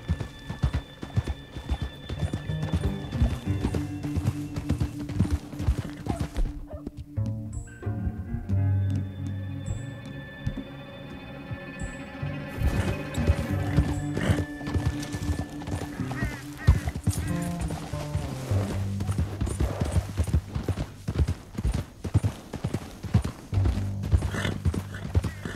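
Horses gallop across a canyon in the video game Red Dead Redemption, rapid rhythmic hoofbeats pounding close by with occasional neighs, set against a musical score and briefly easing off midway before the galloping resumes.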